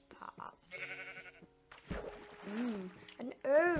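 Sheep in the Minecraft video game bleat in short wavering calls, with a louder cluster of bleats toward the end, among other game sounds and pauses.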